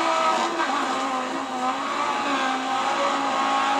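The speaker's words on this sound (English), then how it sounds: "Rally cars are enormously loud, of course, as are all racing cars." A rally car engine roars steadily in the Dirt 3 racing game on a Finland trail stage, loud and sustained with slight pitch shifts as it revs, and no talk over it.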